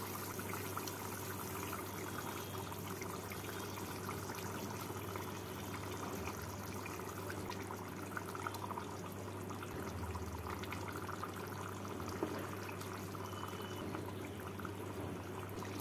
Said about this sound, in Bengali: ঝোলটা ফুটে গেছে, এর মধ্যে এবারে ভেজে রাখা মাছগুলোকে দিয়ে দেব।